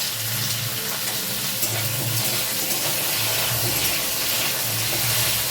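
Potato and carrot pieces frying in a pan of hot oil with whole spices for a vegetable khichdi give a steady, close, even sizzle with a faint low hum underneath, and no one speaks.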